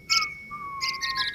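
Person whistling in imitation of a bird song: a few close, thin sustained tones and gliding notes, then quick chirping trills, fairly faint and without talk.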